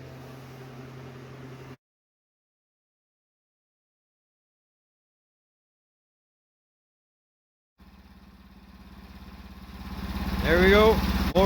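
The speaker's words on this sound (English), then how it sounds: "There we go, motor's running, drive wheel spinning" A homemade sawmill's motor runs with its drive wheel spinning: a steady close hum cuts out for several seconds, then returns and swells into a rising, loud whine as the wheel speeds up.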